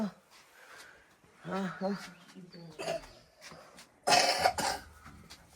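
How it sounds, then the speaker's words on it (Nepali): A child coughs in a few rough bursts near the end, after an adult speaks over a quiet room. "नाति पनि खोक्दैछ"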